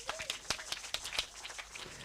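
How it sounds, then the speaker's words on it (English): A small audience claps in a light, scattered patter of separate hand claps, faint and fairly distant, lasting about two seconds at a conference event. "big round of applause for Patricia"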